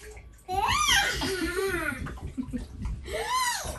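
Water splashes and pours in a bathtub as a baby girl tips it over her head, with babbling, squeals and giggles over the sloshing, close and lively.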